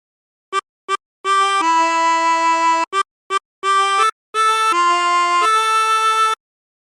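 How Great Thou Art played on a 16-hole tremolo harmonica: two short reedy taps, then longer wavering held notes in a slow hymn phrase, repeated in a second phrase, clear and solo.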